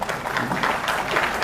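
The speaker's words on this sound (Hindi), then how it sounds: "एक बार अच्छा काम किया है तो जोरदार ताली बजाइए इनके लिए।" Audience applause at a public hearing with a state minister in India, a loud, continuous patter of many hands clapping together.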